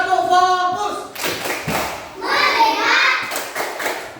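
A class of young second-grade children in an Indonesian primary school do a rhythmic focus clap, loud patterned hand claps and thumps mixed with the children chanting together in unison.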